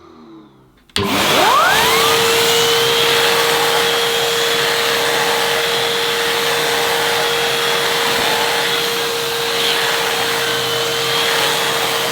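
A Henry Hetty XL Plus vacuum cleaner fitted with its smaller air-powered turbo brush switches on with a sharp rise, then roars loudly and steadily with a constant high whine close by.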